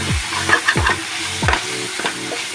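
Chicken chow mein with egg and soy sauce being stir-fried, spatula strokes scraping and tossing in a sizzling pan several times in an uneven rhythm, close and alone.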